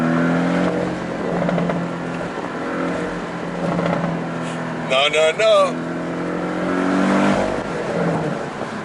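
A 2017 Porsche 718 Boxster with the Sport Package and a four-cylinder engine revs through its exhaust, a throaty swell rising and falling at close range while someone talks over it.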